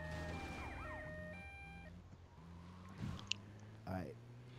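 Ambulance siren in Grand Theft Auto: Liberty City Stories, a wailing, sweeping tone for the first two seconds that then gives way to engine noise and a couple of brief bumps.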